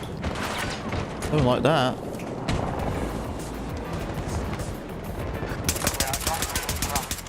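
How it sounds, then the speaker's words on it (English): Automatic gunfire and scattered shots in Battlefield 2042 multiplayer crackle in rapid bursts, loud and dense, with a voice speaking briefly over the battle noise. "On your feet and fight. Oh. Taking enemy fire."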